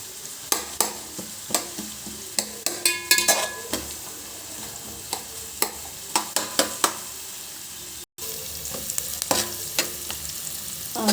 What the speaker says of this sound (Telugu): ఇవి కాస్త వేగనీయాలండి గోల్డ్ కలర్ రావాలి